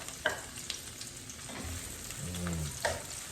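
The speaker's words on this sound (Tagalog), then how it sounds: "Hulog muna natin yung sibuyas mga katambay kasi nga malaking hiwa" Large-cut onion pieces dropping into a hot pan and frying before garlic is added, a steady sizzle with a few sharp drop-in clatters, fairly close, no talking.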